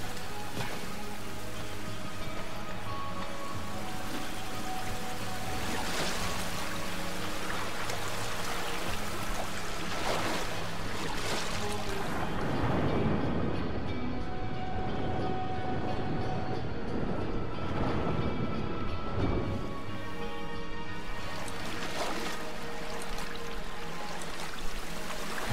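Waterfall in Darksiders 2: a constant rushing, hissing wash of water fills the whole stretch, with a low droning music or ambience bed underneath and some surges in intensity, no talk.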